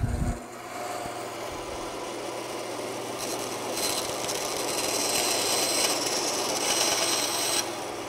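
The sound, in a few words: bandsaw cutting wood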